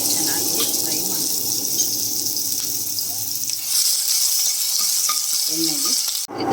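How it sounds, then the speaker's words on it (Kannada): Cumin seeds and green chillies frying in hot oil, a steady close sizzle and crackle that thins out toward the end, with a few spatula scrapes and a brief voice near the close. "ಎಣ್ಣೆ ಕಾದ್ಮೇಲೆ ಅದಕ್ಕೆ ಜೀರಿಗೆ ಹಾಕಿದ್ದೆ, ಸಿಡ್ದಿದ್ದೆ, ಹಸಿಮೆಣಸಿನ್ಕಾಯಿ ಹಾಕಿ ಚೆನ್ನಾಗಿ ಫ್ರೈ ಮಾಡಿ"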